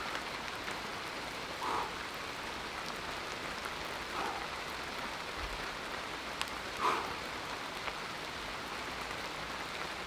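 Steady rain falling in a rainforest among moss and ferns, an even continuous patter with a few louder drops standing out, no voices.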